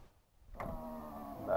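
The power window motor on a 1995 Land Rover Discovery starts abruptly after a brief silence and hums steadily as it lowers the window, close and clear.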